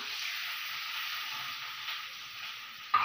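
Onions and garlic frying in a pan after fenugreek and fennel seeds, for a dried-fish kuzhambu: a soft, even hiss of sizzling oil, fairly quiet and steady, with a small clatter right at the end.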